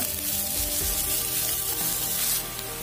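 Chopped thick onion sizzles steadily in hot oil in a pan for a green-leaf palya, a continuous dense frying hiss, close and fairly loud, with no talking.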